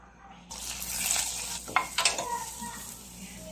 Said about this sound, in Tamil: பட்டரை ஆட் பண்ணிவிட்டு இதை வந்து நம்ம வந்து கொஞ்சம் சேமியா போட்டு நல்லா வறுத்துக்க போகிறோம்